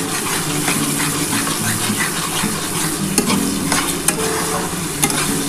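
Masala spice paste stir-fried in hot oil for a soybean and red lentil muitha, sizzling steadily with scraping stirs and a few sharp spoon knocks against the pan, close and fairly loud with no talk.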